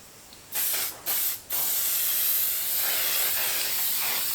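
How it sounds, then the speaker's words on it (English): Short bursts of aerosol fixative spray hiss onto a charcoal drawing, two quick puffs followed by a long, steady spray close to the microphone. "and then we're going to give it another spray"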